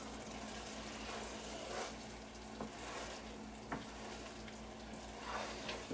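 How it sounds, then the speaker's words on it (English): Cheesy shrimp risotto stirred in a pan, a steady soft bubbling sizzle with a few scraping clicks of the spoon, close and continuous with no voices. "As I stir."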